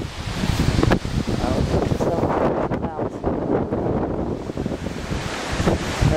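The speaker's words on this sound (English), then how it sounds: "It's getting a little windy." Strong gusting wind from Hurricane Ike roars steadily around a residential neighborhood, buffeting the microphone loudly throughout with a few brief thumps.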